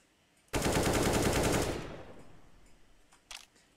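A sustained burst of rapid automatic AK-47 fire in the video game CS:GO, loud and close for about a second, then ringing away into a fading tail with a couple of faint clicks afterward.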